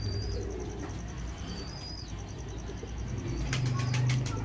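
Pigeons coo softly in a steady, low murmur that runs throughout, with a few faint chirps high above and a fuller burst of cooing near the end.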